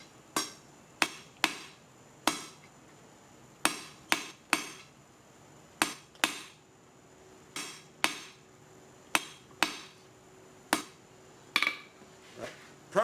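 Hand hammer forging metal on an anvil in a blacksmith's shop, sharp ringing strikes landing alone in uneven clusters of two or three, close and clear.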